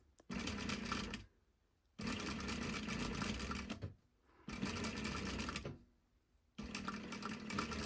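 A sewing machine stitches in the ditch along French bias binding in three steady, evenly paced bursts, separated by quiet pauses, close and clear.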